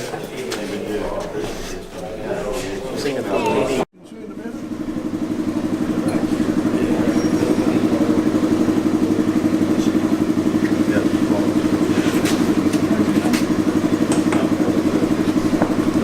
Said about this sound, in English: It'll start on compressed air.